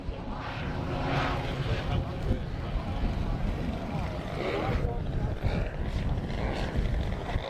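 Model aircraft engine at an air show, throttling up and down as the plane comes in to land with wheels down, a steady buzzing drone under a commentator's talk.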